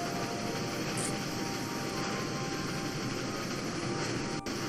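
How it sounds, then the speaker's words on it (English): A steady, loud rumble of a train rolling along the tracks fills the whole stretch, with a constant roar and a brief clack near the end. "our train as it thundered through the quiet wilderness"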